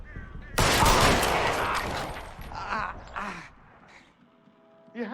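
Video game gunfire: a loud burst of rapid shots erupts and sustains, then tails off into scattered bangs and echoes, with a few sharper shots returning near the end.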